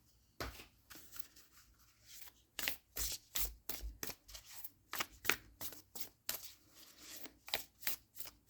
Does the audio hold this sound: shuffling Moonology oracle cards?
yes